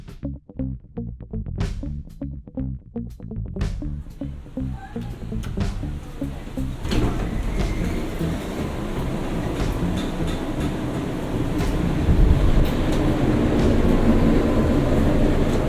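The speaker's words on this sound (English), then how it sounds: "Let's take a ride on this very interesting elevator." Slow, long glass elevator modernized by Kone inside a water tower, starting with a series of mechanical clunks and knocks, then settling into a steady low rumbling hum of the ride that grows slightly louder, close and continuous.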